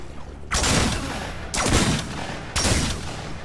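Gunfire in the video game Fragmented: three loud, evenly spaced shots about a second apart, each a heavy blast with a short fading tail, up close and alone.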